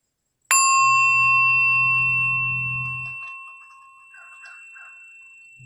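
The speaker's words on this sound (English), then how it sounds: "Maybe we could end with a sound of the bell" A single bell is struck once at the close of a quiet, contemplative talk. Its bright, clear tone rings out loudly and then decays slowly over several seconds, with a faint low hum underneath early on.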